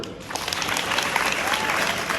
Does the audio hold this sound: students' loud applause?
yes